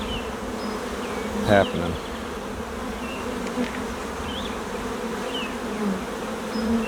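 Honey bees buzz steadily inside an open hive with a dense, close hum, while a few individual bees whine past. A voice briefly speaks.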